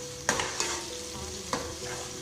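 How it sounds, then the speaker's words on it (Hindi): Ginger garlic paste frying in oil for mash dal, a steady close sizzle with a few sharp clinks of a spoon stirring the pan. "तो फिर इसमें हम अदरक लहसुन का पेस्ट डालेंगे, इसको भी हम थोड़ी देर के लिए भूनेंगे।"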